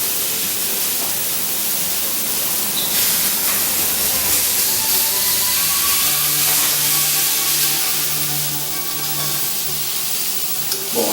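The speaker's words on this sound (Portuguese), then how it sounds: "aqui eu terminei de selar o meu filé mignon" Filet mignon sears in a frying pan, giving a loud, steady hiss and crackling sizzle that runs continuously with faint tonal background music underneath.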